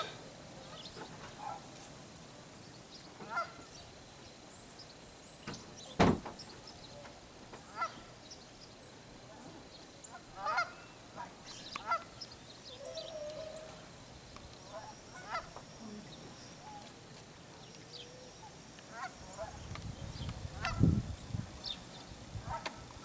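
Canada geese honk repeatedly from a distance, scattered calls rising over a steady outdoor background, with a louder burst of honking near the end.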